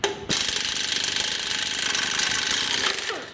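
A flex head air impact wrench hammers against a tight lug nut in one loud, continuous rattling burst lasting about three seconds, starting abruptly and cutting off at the end.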